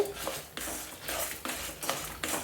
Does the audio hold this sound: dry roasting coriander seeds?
yes